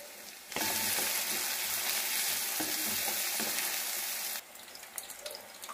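Onions and turmeric powder fry in hot oil with a loud, bright sizzle that flares suddenly and holds for several seconds before dropping to a softer crackle.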